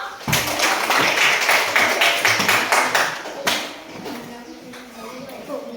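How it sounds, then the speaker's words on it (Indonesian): A few seconds of applause for Alvino in a classroom, quick hand claps rising at once and then fading out, with a voice speaking alongside. "aplaus untuk Alvino"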